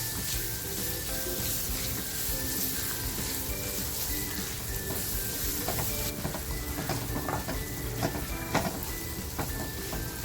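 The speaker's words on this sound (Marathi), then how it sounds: "कांदा टाकते आणि कांदा या मसाल्यामध्ये असा छान फ्राय करून घेणार आहे" Chopped onion frying in oil with masala over a high gas flame while cooking a Konkani wet cashew usal; a dense, steady sizzle runs throughout, with occasional stirring scrapes and clinks close by.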